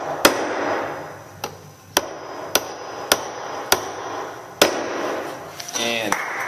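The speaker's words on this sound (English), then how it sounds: "They're going to tap, tap, hammer, hammer." A hammer taps a CD/DVD holder in about nine sharp, evenly spaced knocks that ring close and loud, with a brief voice near the end.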